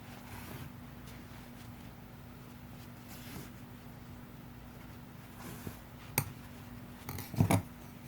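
Scissors snip through knitting yarn after a finished garter-stitch scarf, two or three quick, close cuts near the end over a faint steady hum, with no talking.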